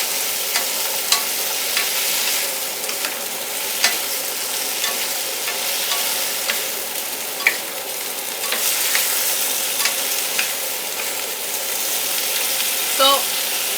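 Lotus root and meat stir-fried in a pan with carrots and beans, a continuous loud sizzle broken by repeated scraping and clinking of a utensil against the pan.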